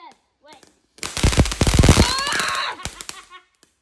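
New Year's Eve fireworks going off at ground level, a rapid close crackling barrage of loud bangs and pops lasting about two seconds, followed by hissing and fading sputters, with a few scattered small pops before and after.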